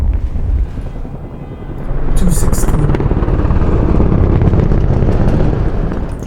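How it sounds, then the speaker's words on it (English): A helicopter passes low overhead, a loud, steady rotor rumble that swells and holds, shaking the room, with a person talking briefly over it. "the vibration from the helicopter shook the bedpost."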